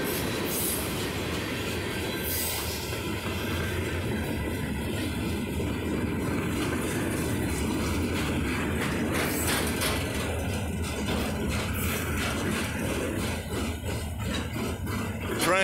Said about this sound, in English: Train is headed west, which it may eventually end up in New Orleans, Louisiana.